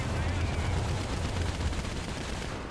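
Rapid gunfire from a PO-2 plane in War Thunder, a dense continuous burst of shots with no gaps, loud and close, fading slightly at the end.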